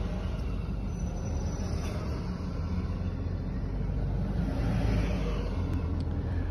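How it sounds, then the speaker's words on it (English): Twelve buses pull away from a Harris campaign event, their engines making a continuous low, broad rumble that swells slightly toward the end. No one speaks. "A video taken showing 12 buses leaving the Harris event."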